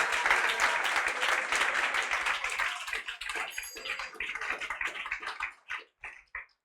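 A church congregation applauding during a worship service, dense sustained clapping that thins into scattered claps and fades out near the end, fairly close.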